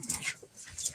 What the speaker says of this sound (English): Those dogs are having a heck of a day